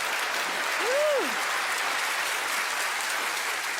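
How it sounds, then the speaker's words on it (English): Studio audience applauding the performers on stage at a magic competition show, a steady broadband clatter of clapping hands sustained evenly through the whole stretch, with a brief whoop rising above it early on. "everyone else, give our stars a round of applause"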